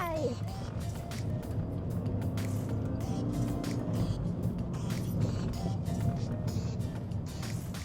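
A Toyota Corolla Altis GR accelerates at full throttle on a straight and then brakes hard. Its engine drones steadily from inside the cabin while someone talks over it.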